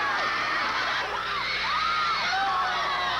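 Basketball crowd at a 1984 semifinal game cheering and yelling continuously, a dense roar of voices with rising whoops and shouts throughout.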